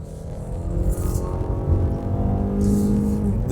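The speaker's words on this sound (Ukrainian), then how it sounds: "Зараз ми з вами пробуємо розгін від 0 до сотні" A 2023 Mazda CX-5 2.5 Carbon Edition accelerates hard from a standstill toward 100, its engine note rising and droning steadily from inside the cabin, loud and continuous with no talk.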